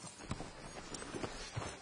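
Horse hooves clip-clop at a slow walk in the Red Dead Redemption 2 video game, a steady run of soft, moderately close hoofbeats with no talking over them.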